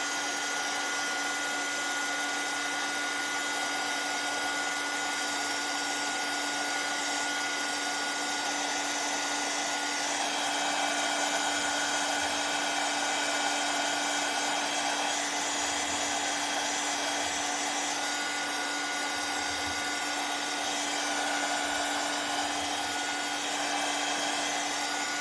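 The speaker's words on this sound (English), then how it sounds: "I'm going to dry this part because this is going to have to sit in there too" Hair dryer running continuously to dry glue on a gnome and monster costume, a steady close whirring blow with a constant tonal hum and slight shifts in airflow, no one speaking.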